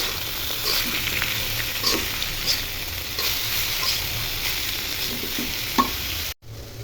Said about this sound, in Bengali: সিদ্ধ করা লাউ আর পটলের ছিলকা এখন দিয়ে দিব। দিয়ে অল্প আছে ভেজে নিব।